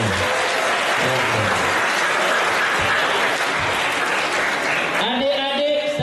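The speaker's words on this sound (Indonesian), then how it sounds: "Tepuk tangan untuk anak-anak SMA semuanya" An audience at a school Maulid Nabi celebration applauds high school students in a loud, dense, sustained round of clapping that fades near the end as a voice begins speaking.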